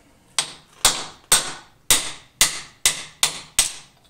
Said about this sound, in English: It's going to hammer out this side